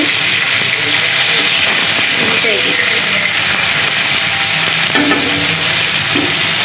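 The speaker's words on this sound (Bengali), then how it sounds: "এদিক দিয়ে হচ্ছে যে আমি রুই মাছ ভাজতেছি।" Rohu fish pieces fry in a pan with a loud, constant sizzle and hiss close by, broken by stirring clatter, with faint voices in the background.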